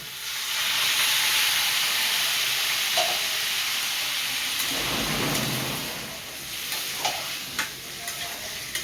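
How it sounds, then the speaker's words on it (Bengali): Water poured into a hot pan where a catla fish head cooks, giving a steady loud sizzle and hiss that swells into a bubbling rush midway, with a few faint clinks from stirring. "এবার আমি জল দিয়ে দিচ্ছি।"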